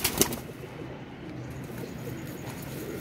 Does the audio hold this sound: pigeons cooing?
yes